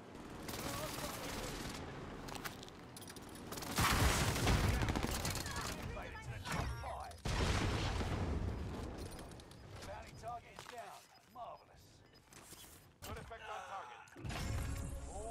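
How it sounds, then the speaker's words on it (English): Airstrike blasts and gunfire in Call of Duty: Modern Warfare, heavy booming explosions and rattling shots rolling in waves, with radio voices talking over the battle. "Mark target for airstrike. This is Phoenix 3. Strike inbound."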